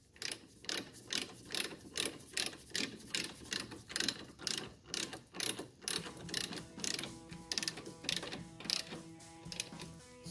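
A ratchet wrench snugs Corvette brake bolts during a C6 base to Z06 brake swap, giving a brisk run of about twenty close ratcheting clicks in steady rhythm, quieter toward the end.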